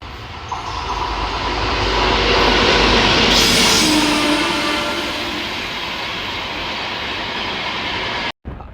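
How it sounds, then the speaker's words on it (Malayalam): A train rolls past close by on the railway track, a loud continuous roar of wheels and wagons that swells, holds, then slowly eases off before cutting out. "ട്രെയിൻ വരുന്നുണ്ട്."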